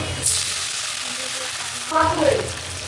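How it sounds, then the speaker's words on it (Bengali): Chopped onions fry in oil with a loud, close sizzle that swells briefly near the end. "পেঁয়াজ ভাজা"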